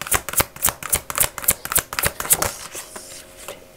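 Oracle cards are spread out on a table in a quick run of about a dozen crisp, rhythmic slaps and swishes, close-up and fairly loud, trailing off into quiet after a few seconds.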